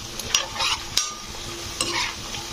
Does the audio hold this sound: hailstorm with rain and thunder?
no